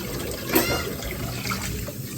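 Running water splashes steadily as something is washed under a tap, a close, continuous trickle with one brief louder splash.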